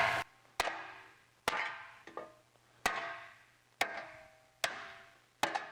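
Hammer blows strike 19 gauge steel, about 1 mm thick, as it is stretched into a motorcycle fender: about eight sharp metallic strikes at an irregular pace, each with a short ringing decay, close and fairly loud, with no talk.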